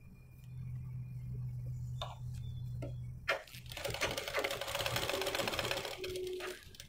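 A sewing machine stitches an umbrella dress, with a low steady motor hum early on giving way to a louder, denser mechanical rattle of rapid stitching, broken by a few sharp ticks and clicks.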